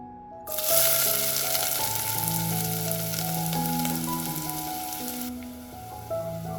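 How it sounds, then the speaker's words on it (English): Finely chopped onions hit hot oil in a pressure cooker, setting off a loud, close, continuous sizzle that holds for several seconds and then eases, with music playing underneath. "take 2 tablespoons of oil in a pressure cooker. Add finely chopped onions,"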